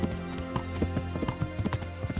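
Horse hooves gallop at a quick, steady clip-clop rhythm in the medieval video game Kingdom Come: Deliverance, fairly faint and close, with no talk over them.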